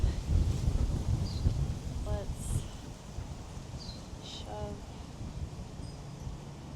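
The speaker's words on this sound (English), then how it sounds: "Today is really windy, if you couldn't tell." Gusty wind buffets the microphone with a low rumble, while a person speaks briefly and faint bird chirps sound in the background.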